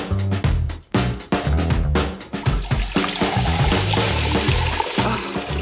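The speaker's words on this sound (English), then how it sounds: "Let's pour this Fanta into the tank as soon as possible." Fanta soda pours into a tank with splashing and fizzing, opening with a few sharp knocks and clunks before settling into a continuous frothy rush of liquid, with no talk.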